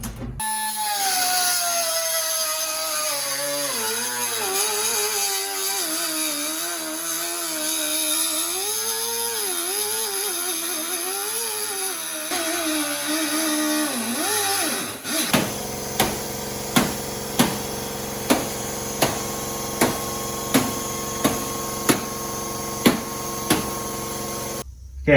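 A power tool grinds continuously through a car's pinch weld, its pitch wavering as it cuts, then gives way to a series of sharp, evenly spaced metallic strikes like hammering.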